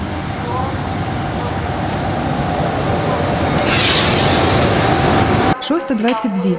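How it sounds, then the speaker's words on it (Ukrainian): A Unity train on the Uzhhorod–Kramatorsk route pulls into Poltava's south station, filling most of the scene with a steady, loud rumble and hiss that grows brighter toward the end before cutting to talk. "Сюди прибув потяг єдності з полученням Ужгород-Краматорськ."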